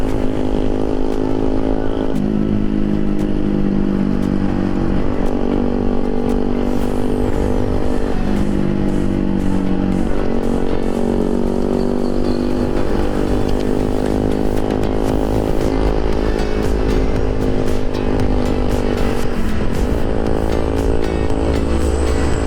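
A Honda Vario New 125 scooter rides in Mode 1 on an exploration trip toward Kopeng, its engine droning loud and close throughout, the pitch rising and falling as the throttle changes, with steady wind rush.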